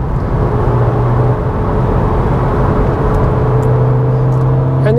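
A Mk5 Volkswagen Golf GTI engine pulls steadily while driving, a continuous loud hum and whir with shifting engine tones and road noise filling the whole stretch, no voices.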